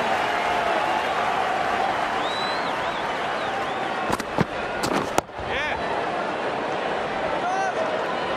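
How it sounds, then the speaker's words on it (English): A stadium crowd roars and cheers in the Ashes Cricket video game during an IPL match between Kings XI Punjab and Bangalore, a dense continuous wash with a few sharp bursts and a commentator speaking over it. "The crowd are loving this."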